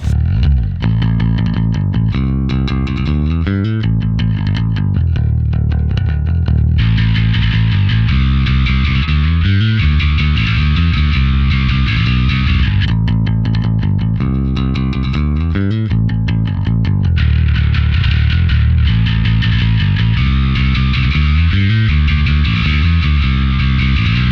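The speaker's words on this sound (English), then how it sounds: "high drive controls the amount of distortion you want in it" A distorted bass guitar through a Darkglass Microtubes X7 pedal plays a gritty, driving riff continuously, loud and saturated with a fuzzy edge throughout.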